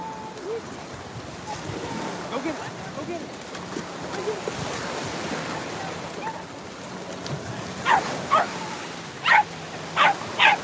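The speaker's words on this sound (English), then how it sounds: "There's your woof woof, Jasmine" Several sharp dog barks ring out near the end at a dog beach in Fort Lauderdale at sunset, in short bursts over steady outdoor noise and murmuring voices.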